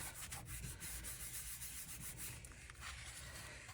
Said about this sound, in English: fold your card over and give it a good rub so that it sticks